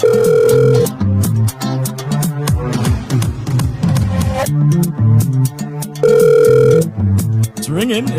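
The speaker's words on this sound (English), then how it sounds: "It's ringing." A telephone rings during a live radio show, with repeated electronic ringtone bursts sounding loudly at the start and again later, mixed with studio sounds in between.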